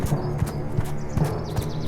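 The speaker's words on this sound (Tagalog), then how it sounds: "maririnig ang mga yapak ng panganay na kapatid sa tulay" Goat hooves clop across a wooden bridge in a children's fairy tale about three goats, a series of evenly spaced, fairly close taps with faint music underneath and no talk.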